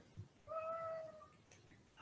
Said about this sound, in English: Cat is going crazy outside the door.